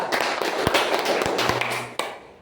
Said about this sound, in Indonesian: Bisa diberikan tepuk tangan bersama untuk kita